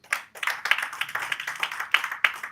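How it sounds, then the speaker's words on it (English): Audience at a film and TV summit panel applauds with brisk, close hand clapping in uneven bursts, several sharp claps standing out over the steady patter. "Please, a round of applause"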